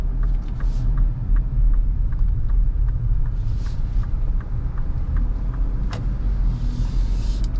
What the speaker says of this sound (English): Turn signal has a nice sound to it as well.